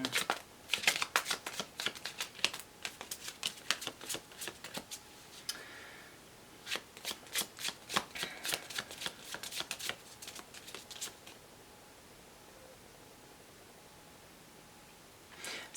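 Tarot cards being shuffled up close, a rapid run of crisp riffling flicks and soft rustles in bursts, pausing briefly midway before another flurry, then trailing off into near quiet; no talk over it.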